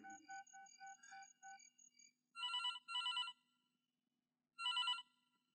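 A phone ringback tone plays while an outgoing call is being placed: two short double-pulsed rings, a pause, then another ring. The rings are clear and fairly loud, following a softer run of steady electronic tones, with no talking.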